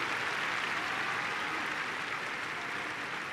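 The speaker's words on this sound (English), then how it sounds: "There's applause all around, which sounds to me like good news." Applause rolls around a football stadium at a Japanese J1 League match between Yokohama FC and Urawa Reds, a broad, distant crowd roar of clapping that stays steady throughout.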